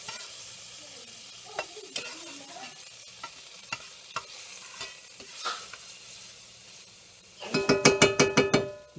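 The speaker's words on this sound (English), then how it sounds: "As you see, it starts to melt that butter right away." Butter melts and sizzles in a hot pan for fried cabbage, a soft steady crackle with scattered clicks and pops, ending in a burst of rapid, louder rhythmic tapping near the close.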